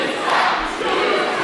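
Wrestling fans at a live indoor event roar for Brandon Scott, a dense crowd cheer that stays loud and unbroken for a brief moment.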